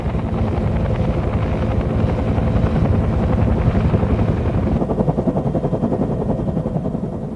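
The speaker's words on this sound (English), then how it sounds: "Because of the rotor noise, pilots tried to avoid alerting the enemy until the last possible moment." Bell UH-1 Huey helicopter in flight, its rotor producing a loud, continuous thudding chop with heavy engine drone, steady throughout with no voices.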